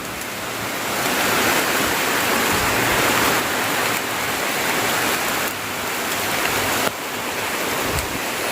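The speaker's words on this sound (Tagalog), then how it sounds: "Naulan." Steady, loud rain pours down outdoors near a farm under a tree, a dense continuous hiss with no voices, holding an even level throughout.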